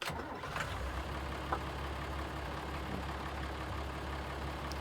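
A farm tractor engine runs steadily in the Farming Simulator 22 video game, a low, fairly quiet idling drone with no talk over it.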